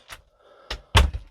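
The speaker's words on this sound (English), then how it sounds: "it's designed so if I open the door" A bedroom door in a DIY tailored bedroom build swings open, giving a few soft close-up thunks and knocks across a short stretch, with a louder bump near the end.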